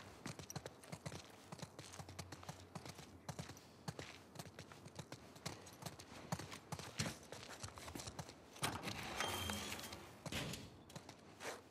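Horse hooves clip-clop steadily in the video game The Last of Us Part II, a dense rhythm of close hoofbeats over outdoor ambience, with no talk.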